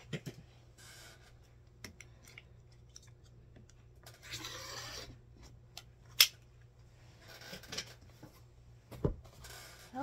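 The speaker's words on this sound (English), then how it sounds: "So now I'm going to cut the side borders" Scissors snip through quilt fabric to cut side borders for a gnome-block quilt top, giving soft scattered cutting and rustling sounds at close range with no talking.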